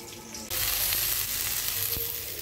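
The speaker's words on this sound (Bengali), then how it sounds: "বেগুন ভাজা হচ্ছে, বেগুন ভাজা প্রচুর তেল লাগে" Eggplant slices fry in plenty of hot oil, bursting into a loud, continuous sizzle after a quiet start and crackling steadily from close by.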